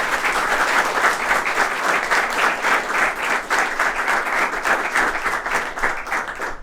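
An audience at Doon Defence Academy applauds students selected through the NDA exam, with steady, dense clapping filling the whole stretch without a break.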